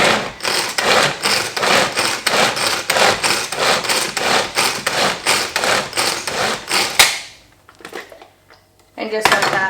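Carrots and onions are finely chopped for shepherd's pie with a fast, steady run of knife strikes on a cutting board, close and loud, that stops abruptly, followed by a few quieter clicks.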